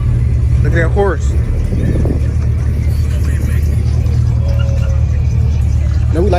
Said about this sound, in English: Look at that Mustang on him.